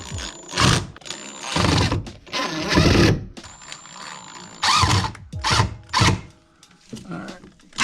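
A power drill drives screws while Aero Blitz side skirts are fitted to a Hyundai Genesis Coupe: loud, short whirring bursts start and stop irregularly, close by, with people talking between them.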